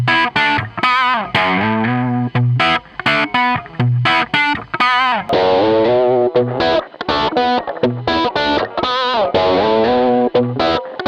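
An electric guitar through a Marshall Plexi amplifier plays a riff, crunchy and distorted, with choppy rhythmic chords and short muted gaps, loud and close with no voices.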